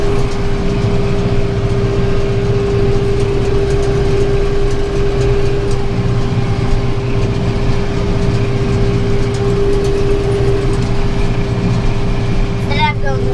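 A tractor pulling a used round baler through hay drones with a steady, loud, heavy engine hum and a constant whine, running continuously in a higher gear.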